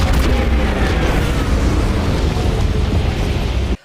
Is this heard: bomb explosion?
yes